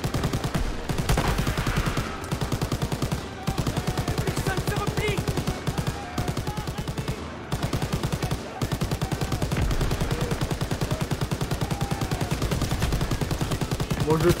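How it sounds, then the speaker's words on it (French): Sustained machine-gun fire from the World War II video game Call of Duty WW2 hammers on in dense, loud rapid bursts with brief gaps, while a voice speaks faintly underneath. "Allez, on tire."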